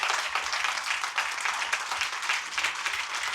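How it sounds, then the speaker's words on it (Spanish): Congregation applauding the Lord at a Spanish-language church gathering, dense steady clapping from many hands, moderately distant and even throughout. "Dale un aplauso fuerte al Señor"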